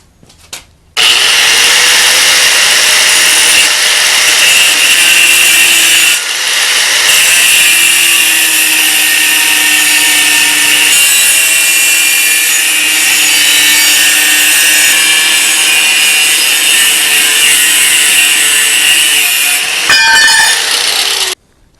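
Saw cutting through wood for a lathe tool rest, loud and steady for about twenty seconds with a constant high buzzing whine and a brief dip partway through, starting and stopping abruptly.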